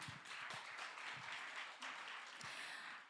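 Audience applause at a church speech contest, a sustained wash of clapping heard faint and at a distance, with a few thumps mixed in.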